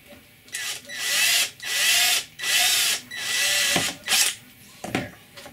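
A power drill bores a hole through a template tool laid on top of a surface for mounting a bulkhead housing. Several close, loud whirring bursts start and stop in sequence, separated by brief pauses.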